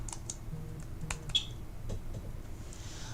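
A short burst of computer keyboard typing, a handful of light, irregular key clicks, fairly quiet and close, over a faint low background hum.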